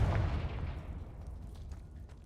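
A Confringo fire spell blast in Hogwarts Legacy erupts as a loud, deep boom right at the start, then rumbles and crackles as it fades over a couple of seconds.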